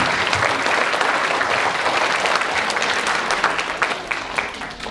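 Steady, dense applause from a school assembly audience cheering team captains, continuous clapping that tapers slightly near the end.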